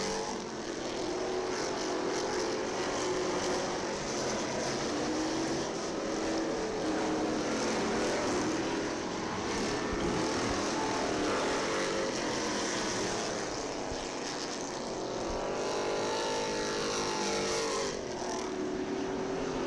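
Race cars at County Line Raceway roaring around the track during a qualifying session, a steady loud engine drone with rising and falling passes throughout, no talk over it.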